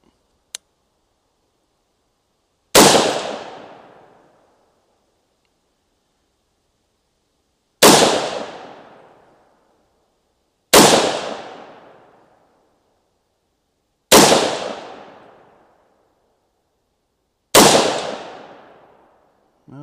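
Five loud, sharp rifle shots from a 300 Blackout fired at a target, spaced several seconds apart, each a sudden crack with a short decaying tail, with quiet between them.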